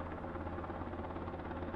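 Helicopter flying in the video game Straya, a steady low rotor drone with dense broadband whir, even and moderately loud for a brief moment with no talk.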